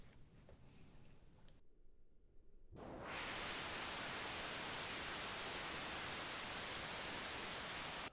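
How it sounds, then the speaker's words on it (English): Steady broadband hiss of white noise through a Sherman Filterbank, briefly thinned and darkened as a filter sweeps, then both filters wide open into a loud, full, bright rush that holds steady. "Just getting the white noise through."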